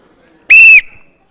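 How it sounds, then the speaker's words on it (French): A single loud, shrill blast of a referee's whistle starting a children's holiday-camp game round, steady for about a third of a second and then trailing off into a faint tail. "À mon coup de sifflet"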